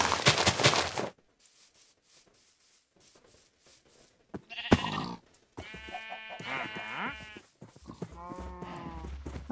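Minecraft sheep bleat several times in a row from a farm pen, loud and close, following a burst of noise and some quieter game clicks.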